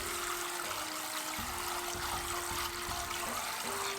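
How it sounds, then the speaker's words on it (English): Water running steadily over Japanese white rice being rinsed, a continuous splashing, trickling wash with no talk. "Rinse the rice with water."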